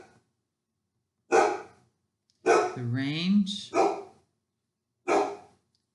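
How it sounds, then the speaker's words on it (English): A dog barks in short bursts somewhere in a home while a man delivers a precalculus lecture on sine and cosine graphs; his voice is heard briefly between the barks. "Sorry, that's my dog barking."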